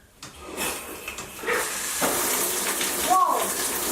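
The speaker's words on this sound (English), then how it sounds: "I am going to turn on the shower to see how the shower post thing works" A newly installed shower head sprays water in a home bathroom, a steady broad hiss that swells after a soft start and runs continuously, with a brief clatter and a squeak near the end.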